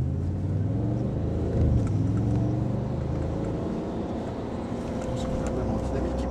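An Audi RS5 with sport exhaust downshifts on the road, its engine a loud, continuous low rumble that swells briefly in the middle, heard from inside the car with talk partly over it.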